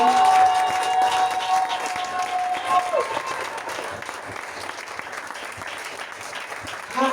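A church congregation bursts into sustained applause, loud at first and then easing into a dense, steady patter of many hands clapping, with voices mixed in.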